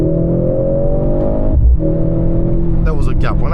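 A Mercedes-AMG C 63 S E-Performance four-cylinder pulls hard and loud in third gear after a downshift, with a steady engine drone, a brief dip at the shift, and a faint whine near the end.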